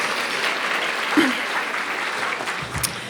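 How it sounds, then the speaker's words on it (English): Steady applause from the audience at a charity equality dinner, a dense even patter of many hands that holds at one level throughout, with a brief voice rising over it near the middle. "Please give yourselves a round of"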